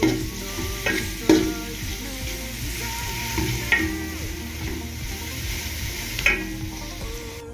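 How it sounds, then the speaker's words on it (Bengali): Koi and small fish fry with spices in a pot, a spoon stirring and scraping the metal in irregular clatters over a continuous sizzle, close and fairly quiet, with no speech. "এবার আমি এটা ভালো মতো নাড়াচাড়া করব, ভালো মতো কষিয়ে নেব।"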